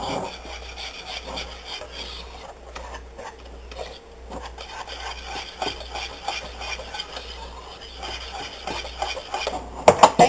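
A whisk scrapes and beats flour into runny English muffin batter in a bowl, a steady rasping stir that runs throughout, with a louder clatter at the end.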